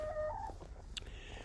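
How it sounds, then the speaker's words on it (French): Backyard hens clucking close by, a few short calls and soft clucks over a low steady rumble, with no one talking. "Oh là, les poules."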